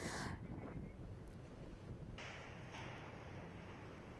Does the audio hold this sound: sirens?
no